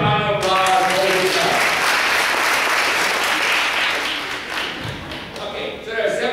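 A school audience applauds a student, a loud sustained burst of many hands clapping that eases slightly near the end before a voice returns.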